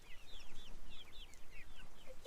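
Chickens cluck on a small farm, a busy run of short rising calls from several birds close by, steady and overlapping with no talk.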